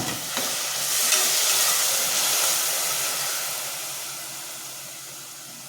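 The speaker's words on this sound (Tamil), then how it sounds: "இன்னும் பச்சை வாசனை போகிற வர வதக்கிக்குவோம்" A ground paste of chili, onion, coriander and mint sizzles and hisses in hot oil in a pan for prawn biryani, a steady, fairly close frying sound that slowly fades and has no talk over it.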